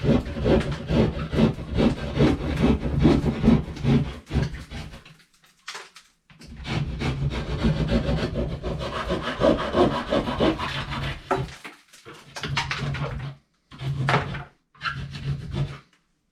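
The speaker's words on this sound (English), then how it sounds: "I recut along the bottom edge of the ceiling joist." Hand saw cutting along the bottom edge of a wooden attic ceiling joist, with repeated rasping back-and-forth strokes in steady bursts broken by short pauses, close and fairly loud.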